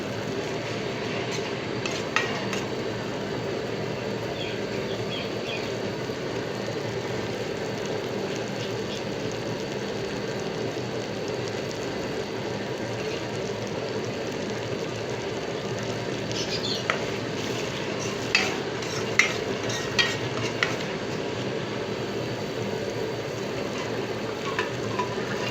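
Garlic and a little red chili frying in hot oil as a tadka for moong dal, a steady close sizzle with occasional sharper crackles and pops toward the end, no voices.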